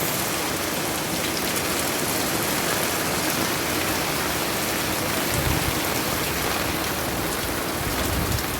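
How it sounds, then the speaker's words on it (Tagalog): Heavy rain pouring down in a steady, dense roar that fills the whole stretch, loud and unbroken, with a few heavier gusts of drumming partway through. "Sobrang lakas ulan guys."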